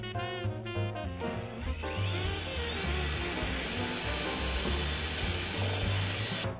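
A power drill bores a 7mm hole through pallet wood. Sharp bursts at the start give way to a loud, steady, high whine that holds to the end, with no talking.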